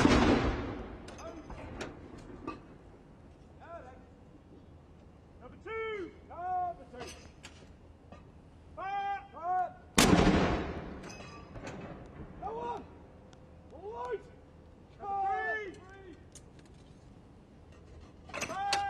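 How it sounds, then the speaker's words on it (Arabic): An artillery gun salute of 96 rounds honours Queen Elizabeth II. Two sharp, deep cannon booms land about ten seconds apart, and someone speaks over the quieter stretches between them. "طلقات مدفعية مشاهدينا تنطلق تكريما"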